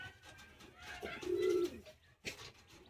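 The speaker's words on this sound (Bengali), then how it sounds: "হ্যাঁ, আন্ধ্রা পায়রা।" An Andhra high-flying pigeon at a loft in Bagnan, Howrah gives one clear, close coo lasting about half a second, preceded and followed by faint rustling and light background noise.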